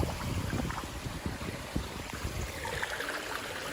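A small river flows with a steady rushing, trickling murmur, close and moderately loud, fading slightly toward the end.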